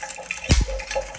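Water spilling out during a two-handle shower faucet replacement: a short splash and gush with a quick double burst, close and brief, no voices.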